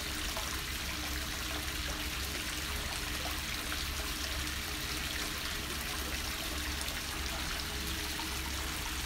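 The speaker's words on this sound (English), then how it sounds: "You can hear the pitter-patter of the water falling into the bath here" Hot spring water falls steadily into an outdoor onsen bath at Yumoto Onsen in Iwaki, Fukushima, a constant close splashing and trickling wash that runs unbroken throughout with no voices.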